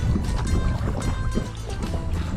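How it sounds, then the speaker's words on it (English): A canoe paddle strokes through the water of a clear pond, giving soft splashes and swishes close by over steady outdoor background noise. "You can just put the paddle down, and I'll just paddle us places."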